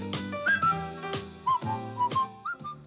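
A jaunty whistled tune: clear, close whistled notes in a bouncing rhythm over a strummed, chord-heavy accompaniment.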